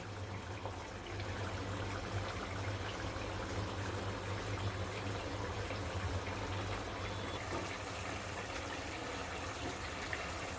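Bombay duck (bombil) simmering in a green masala curry, a steady low bubbling and hissing that stays at an even level throughout, with a faint hum underneath.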